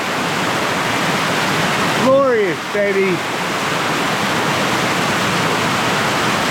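Water pours and splashes down from a waterfall as a steady, loud rushing roar that fills the whole clip, with a voice exclaiming briefly over it near the middle.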